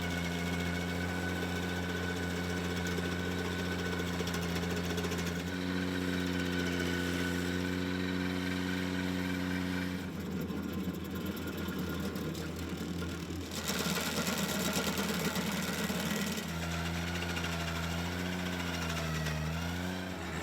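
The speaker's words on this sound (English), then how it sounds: "this is probably the most violent vibration or shaking that I've had while using this grinder" A stump grinder mounted on a subcompact tractor chews into an extra hard wood stump with a loud, continuous engine roar and grinding. The pitch rises and falls as the load shifts, with heavy shaking and rattling throughout.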